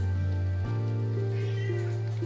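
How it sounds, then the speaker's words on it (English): Cat meowing in the video game Graveyard Keeper, a short game-sound meow over steady droning background music, no talk. "I fed you. Why are you meowing at me?"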